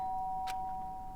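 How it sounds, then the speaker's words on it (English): A single short electronic doorbell chime sounds once in the video game Danganronpa: Trigger Happy Havoc, quiet and brief over a steady faint hum of background music. "the sound of doorbell forced its way into my room"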